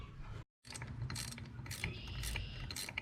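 A wrench tightening bolts on clamshell clamps while reassembling a John Deere 4020 tractor, quick ratcheting clicks in short bursts close by after a brief silent gap, with light metallic rattles.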